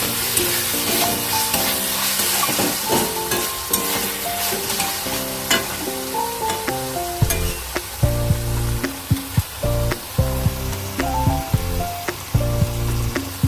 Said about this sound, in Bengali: এগুলিকে ভালো করে নেড়ে চেড়ে নিলাম